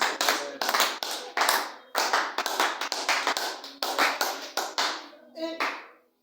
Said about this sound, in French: Acclame un peu pour le Saint-Esprit.